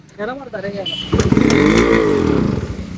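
A Yamaha RX 100 motorcycle is kick-started: voices come first, then the two-stroke engine catches and runs loud and close, with a rough, sustained roar.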